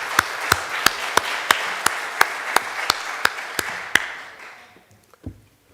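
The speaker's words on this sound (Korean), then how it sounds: "우리 성가대 격려의 박수로 다시 한번 하면 좋겠습니다" A church congregation claps in encouragement for the choir, about a dozen sharp, evenly spaced claps in unison that stop abruptly, followed by a brief quiet with a faint thump.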